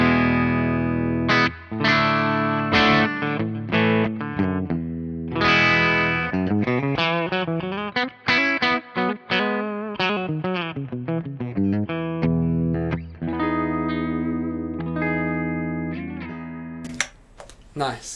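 An electric guitar played through a Victory VC35 amp on its clean channel runs through a busy phrase of chords and single notes, loud and close, with bright harmonics and a few sharp clicks near the end.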